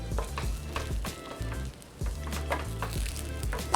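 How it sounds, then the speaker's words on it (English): Bay leaf, fresh rosemary and fresh thyme stirred into a sizzling pot for pork shank osso buco, a continuous crackling fry with soft scraping stirs and occasional pot clinks, close and fairly loud. "I've got a bay leaf, some fresh rosemary, and some fresh thyme. I'm gonna stir all of those in."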